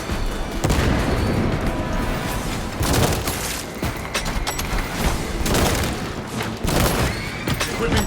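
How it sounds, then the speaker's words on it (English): Frag grenade blast and dense gunfire in Space Marine 2, a loud rolling barrage of booms and rapid shots with a few brief lulls, close and continuous. "Throwing frag grenade."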